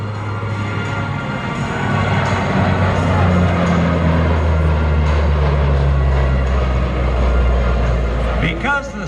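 A Lockheed C-130 Hercules flying at the Cleveland National Airshow, its steady propeller drone loud and sustained throughout, with a commentator talking over it.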